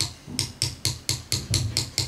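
Eight quick, evenly spaced metallic taps of a big hammer on a 1911 pistol during a spring change, close and crisp with no talk.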